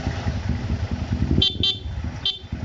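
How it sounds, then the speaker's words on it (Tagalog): The stock horn of a Yamaha 150 FI motorcycle gives three short honks near the end, loud and close, over the steady rumble of the motorcycle's running engine. "pabusin lang ako ng stock horn"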